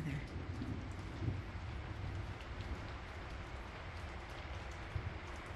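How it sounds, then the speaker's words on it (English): Steady rain falls in stormy weather, a continuous dense patter with low rumbling wind underneath that holds at the same level throughout. "stormy weather."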